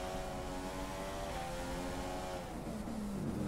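Formula 1 race car engine in F1 2015 at the Bahrain round, a continuous high-pitched droning whine with shifting harmonic tones as revs rise and fall, steady and fairly quiet throughout.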